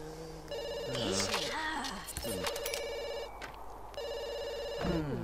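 A telephone rings in The Sims 2 with repeated bursts of electronic bell tones broken by short pauses, over game music and bright interface sounds.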